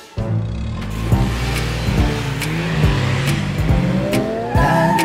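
Cartoon race car tires screech in repeated squealing swoops over a revving engine, loud and close, with several sharp bursts scattered through a busy animated scene.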